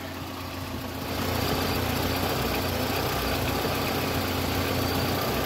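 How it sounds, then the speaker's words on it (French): A Peugeot 205 turbo car engine, checked for a head gasket leak, turns over and settles into a steady, rumbling idle close by, humming evenly with a faint vibration. "Je vais démarrer le moteur et on va voir si ça fuit ou pas."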